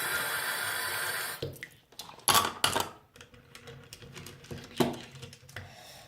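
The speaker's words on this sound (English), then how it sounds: "I'll just rinse off the rocks, stick it in that plastic container" Water splashes and trickles in short bursts as rocks from a rock tumbler are rinsed, with clattering knocks of hard stones between pours.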